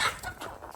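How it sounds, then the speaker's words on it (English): Several backyard chickens cluck softly at close range while feeding, a busy low chatter of short overlapping calls with a louder burst at the start. "my neighbor's got a lot of chickens here"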